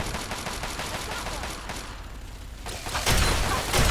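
Turret gunfire in Fallout 3 sounds as a steady stream of rapid, loud shots, briefly thinning before heavier, closer bursts and thumps take over.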